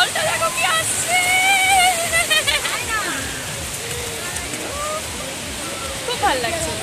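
Sea waves washing in at Udaipur beach, a continuous close wash and slosh of water with people talking and exclaiming over it throughout.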